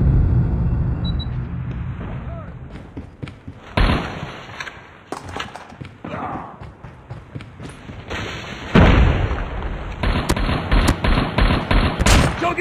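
An M16 assault rifle fires in Call of Duty Mobile in sharp, loud bursts and single cracks, with a rapid string of shots near the end over a constant game background hum.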